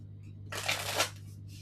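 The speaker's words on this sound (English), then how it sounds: "Okay, one more shuffle, then we're doing it." A deck of tarot cards is shuffled close by in one quick, crisp burst lasting about half a second, set against a steady low electrical hum with no talking.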